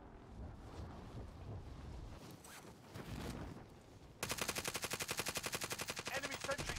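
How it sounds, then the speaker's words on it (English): Automatic sentry gun in Call of Duty Mobile opening fire, a loud, rapid, steady stream of shots in the final few seconds after a stretch of muffled game noise. "Enemy sentry gun active."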